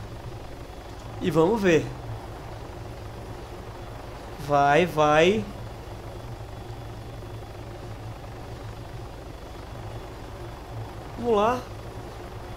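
Steady helicopter rotor and engine drone from a landing in the military game Arma 3, running continuously under the whole stretch while players talk in short bursts over it.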